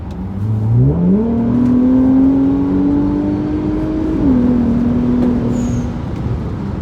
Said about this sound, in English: give you a clip of a full throttle pull with the exhaust setup